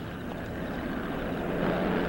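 A steady, droning airplane engine runs continuously and fairly loud at a constant pitch, with no voices over it.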